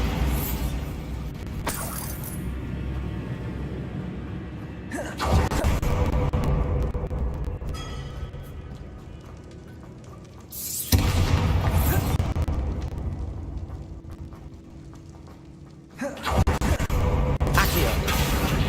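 Bombarda blasting spells explode repeatedly in Hogwarts Legacy, with three sharp booming bursts spaced several seconds apart, each followed by crumbling debris that fades away, and a voice speaking faintly between them.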